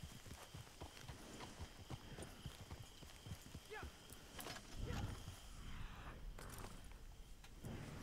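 Steady clip-clop of horse hooves at a brisk pace in the video game Red Dead Redemption, with rattling and scattered game sound effects and a faint voice underneath.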